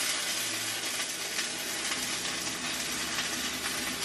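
Batter fries in a frying pan with a steady, dense sizzle that hisses evenly and close throughout, with no voices.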